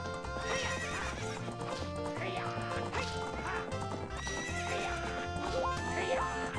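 A horse neighs and whinnies with clip-clop hooves in The Legend of Zelda: Ocarina of Time, likely Epona, set over steady game music that continues throughout; the whinnies recur several times at a constant loud level.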